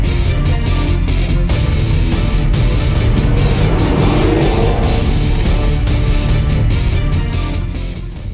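A 2015 Chevrolet Camaro SS V8 engine revs hard under acceleration, a loud continuous roar with rising and falling pitch that stays steady throughout, with no talking over it.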